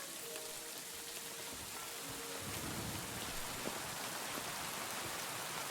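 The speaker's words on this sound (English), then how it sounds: "Man, now it's raining." Steady rain falls in the medieval-setting video game Kingdom Come: Deliverance II, a dense, even hiss of drops on surfaces with a few brief tonal blips early on, continuous and fairly close throughout with no voices.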